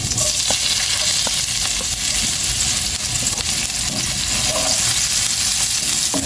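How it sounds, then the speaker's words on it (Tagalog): Garlic and onion sauté in a wok-style pan with a little reused oil left from frying tilapia, giving a steady, close, loud sizzle with occasional stirring scrapes throughout and no talking. "Gisa lang natin yung ating bawang sibuyas muna"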